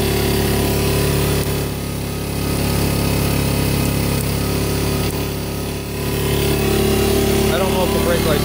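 A Kawasaki Brute Force 650 ATV engine idles steadily, then its revs rise and fall in a couple of broad swells, running loud and close without a break.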